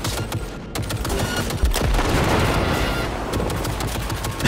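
Gun turret in Cyberpunk 2077 firing in rapid sustained bursts, a dense loud rattle of shots with a heavier impact midway, continuing for several seconds close up.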